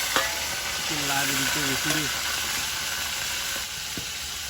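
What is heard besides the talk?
shrimp frying in hot oil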